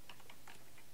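Keystrokes tapped on a computer keyboard while entering a line of C++ code, a few quiet clicks spaced irregularly and close by with no talk.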